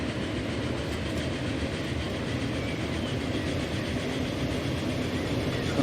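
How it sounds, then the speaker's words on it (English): A Borsig steam train rolls by in Transport Fever, giving a steady, dense rumble of wheels and carriages with faint rhythmic clatter held at an even level throughout. "Passing this Borsig."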